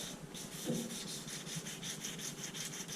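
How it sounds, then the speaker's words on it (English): Hand sanding on the body of a 1994 Ford F150 pickup before primer, a steady rhythmic scuffing of back-and-forth strokes, fairly close and even in level with no voices. "I did manage to get that all sanded down over there"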